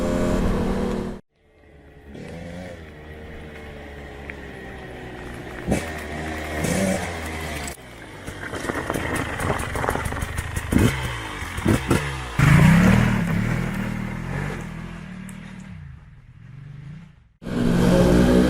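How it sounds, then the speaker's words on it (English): A Ducati Multistrada 1200 and a Husqvarna TE 300 riding off-road, engines revving and dropping as they accelerate and shift, with wind buffeting and clatter over the trail, loud and close, with brief quiet gaps. "He's on his Multistrada 1200. I'm on the Husqvarna 300 TE."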